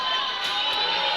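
A crowd at a collegiate powerlifting meet cheers and whoops continuously, with a dense wash of voices and a couple of sharper shouts rising out of it.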